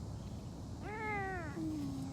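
A single close meow from a Savannah cat named Beecher at a big cat rescue, rising then falling and trailing into a lower drawn-out tail over steady background noise.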